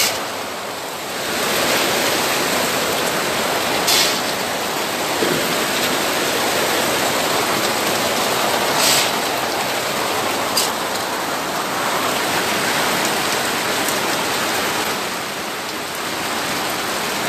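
Rain pours steadily onto a rabbit barn, making a loud, continuous hiss of water on the roof and dripping inside, with no voices.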